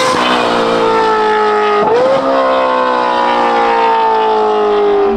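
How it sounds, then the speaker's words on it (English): A Novitec-tuned Ferrari SF90 Spider with a sport exhaust roars loudly and continuously nearby, its engine note rising and then dipping once before climbing steadily again. "it's loud and it's an absolute joyride"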